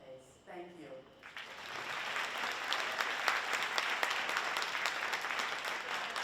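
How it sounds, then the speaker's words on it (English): Audience at a city health and equity event breaks into applause for a speaker; a brief voice is heard first, then dense sustained clapping swells and holds steadily to the end. "big round of applause for Chirlane McCray"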